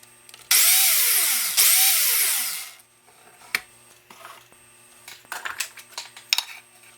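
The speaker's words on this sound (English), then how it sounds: "And making a hole in a piece of wood" A vintage drill press spins up twice with a loud whine that winds down, drilling into wood, followed by scattered knocks, clicks and tool handling sounds.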